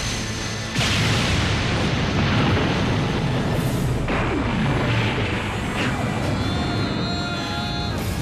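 An anime explosion as Utopia Ray and Neo Galaxy Eyes are destroyed in a Yu-Gi-Oh! ZEXAL duel: a sudden loud blast that swells into a sustained, roaring rumble lasting several seconds, dense and continuous.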